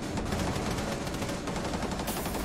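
Rapid gunfire crackles through a fast three-versus-three firefight in a Ubisoft video game, a dense string of sharp shots layered close together and loud from start to finish, with no speech over it.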